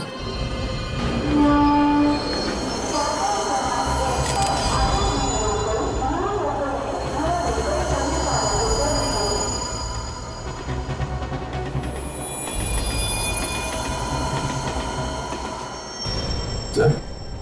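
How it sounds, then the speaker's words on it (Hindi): A train runs along rails in a TV crime drama scene, a steady loud rumble of wagons with some high squeal, carrying on throughout with faint voices beneath. "फ्रेडी, पता लगाओ ये ट्रेन आई कहां से है।"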